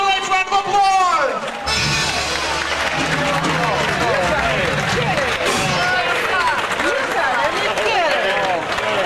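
Audience applause for a competing ballroom dance couple at a Seven Springs dance event, a dense, steady roar of clapping that fills the hall for several seconds after a brief opening.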